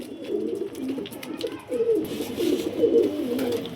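A pet pigeon kept at home coos softly nearby in a few short, throaty rolling phrases, with no other sounds around it.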